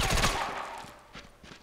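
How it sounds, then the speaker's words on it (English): Shotgun fire in SOCOM Confrontation on PS3, one loud close blast that decays over a fraction of a second, followed by a couple of fainter, more distant reports. "Someone's going bananas with the shotgun."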